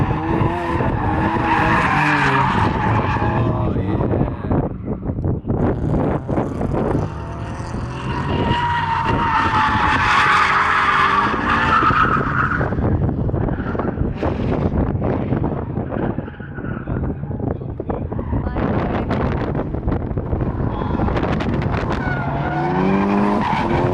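Car drifting at a casual drift event, with loud continuous engine roar and repeated tire squeals and skids filling the whole stretch, sliding passes rising and falling without pause.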